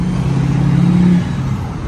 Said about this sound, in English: All this goddamn traffic,